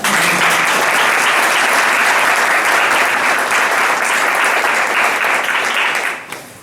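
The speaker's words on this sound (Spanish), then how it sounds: "Un aplauso." Loud, dense audience applause fills a speech night hall, a steady wall of clapping that holds strongly throughout before tapering off at the very end.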